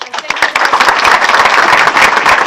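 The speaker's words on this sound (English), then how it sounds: "let's give them a big round of applause" A city council meeting audience breaks into sustained applause, dense steady clapping from a room full of people at close range that holds for the whole stretch.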